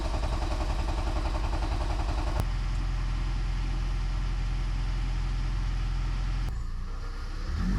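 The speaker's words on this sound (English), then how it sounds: "I'm going to go ahead and try and start the car like normal." A hybrid car's engine idles steadily with a low, even hum and faint tonal whine, with a hybrid system warning light on, then cuts off near the end, leaving a brief rumble.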